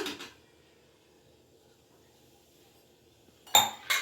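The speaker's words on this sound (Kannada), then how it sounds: "ಈಗ ಕುಕ್ಕರ್ ಮುಚ್ಚಳ ಮುಚ್ಚಿ 1 ವಿಷಲ್ ಬಿಟ್ಬಿಡೋಣ" A pressure cooker lid is shut onto a pot of avarekai (field bean) sambar, giving sharp metallic clinks at the start and again near the end, with near silence between.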